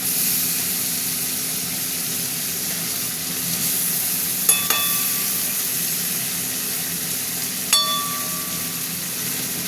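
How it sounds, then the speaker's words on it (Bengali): A steady, even sizzle of shrimp frying in a pan, with two brief metallic clinks of a utensil partway through. "চিংড়ি মাছ দিয়ে দিলাম। এটা একটু ভাজা ভাজা হোক চিংড়ি মাছটা।"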